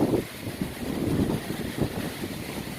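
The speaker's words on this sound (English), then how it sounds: "These winds is crazy." Strong tropical storm winds roaring and buffeting the microphone in heavy gusts around 60 mph, a dense, rumbling rush with no voices, in Brooklyn.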